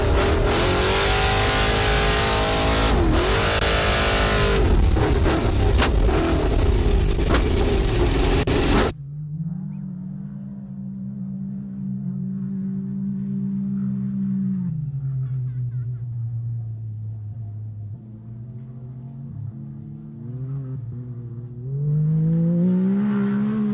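Off-road race vehicles at the St George 399 desert race roar past close by with loud, harsh engine revving, then drop to a quieter, distant drone of engines droning and shifting pitch.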